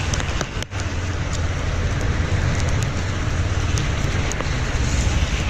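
Heavy downpour drenching the Gondal market yard, a dense steady roar of rain hammering surfaces close by, continuous and loud with no pause.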